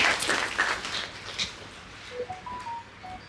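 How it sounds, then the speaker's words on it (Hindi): Fading applause from an audience at a stage play, dense clapping at first that thins out over a few seconds, followed by faint tonal sounds. "हम लोग अपनी तालियों से वहां तक बात पहुंचा देंगे"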